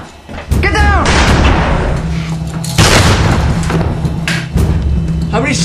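Several loud gunshots go off close by in bursts, sharp booms with echoing tails, while people shout and talk between and over the shots.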